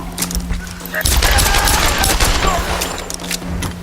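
Gunfire in the Tomb Raider video game, a loud dense volley of rapid shots and booming impacts that starts abruptly and keeps rattling, with voices mixed faintly beneath.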